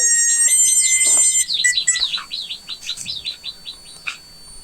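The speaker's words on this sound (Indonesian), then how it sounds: "Suara burung, kirain suara alarm sepeda" Small bird outdoors chirping in quick, high, repeated tweets, a bright electronic-sounding series followed by sparser calls, fairly close and alone without speech.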